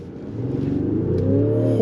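A car launched hard in dynamic sport mode, its engine note climbing steadily and loudly as it accelerates over a couple of seconds, heard up close with no talking.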